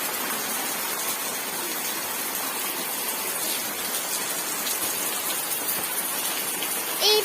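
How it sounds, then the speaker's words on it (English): Heavy rain pours down in a steady, dense hiss that never lets up, loud and close, with no voices over it. "It is a heavy rain,"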